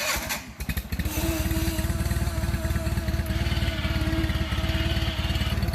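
A John Deere 316 lawn tractor's engine works hard while pulling an Arctic Cat ATV out of a mud pit, a loud, steady, throbbing drone close by that rises after a brief rough start and holds without talk.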